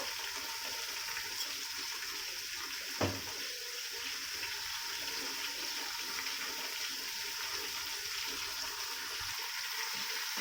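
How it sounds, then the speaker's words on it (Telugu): Soaked biryani rice goes into a pot of boiling water, giving a steady, close bubbling hiss with one brief splash early on and no voices. "ఎసరు వచ్చిన వాటర్లో మనము రైస్ వేసుకున్నాం"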